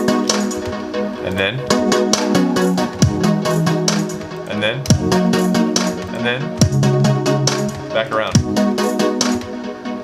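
Seventh chords and their inversions ring out as a chill trap progression, sustained and layered with repeated attacks, loud and steady throughout, while a voice speaks briefly over the music.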